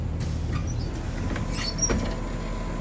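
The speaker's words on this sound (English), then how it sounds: "Now we're going to close the door." A bus entry door closes during an interior pre-trip inspection, a short mechanical slide and soft thud near the two-second mark over a steady low engine idle, with no talking.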